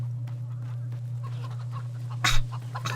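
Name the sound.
chickens clucking in the video game Fable 3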